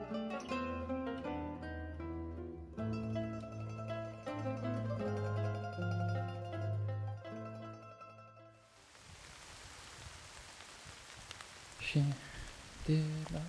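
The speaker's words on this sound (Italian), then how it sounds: "Scende la pioggia" Music gives way to steady rain falling along a hiking trail between Lazio and Abruzzo, a broad, even hiss with a few sharper drips, heard alone after the music ends.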